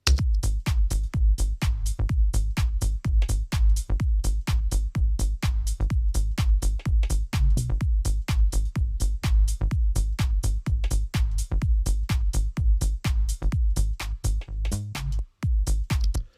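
A punchy bass line, compressed with a UAD DBX160, thumps in a steady, repeating rhythm with tight beats, loud and up front, briefly cutting out near the end.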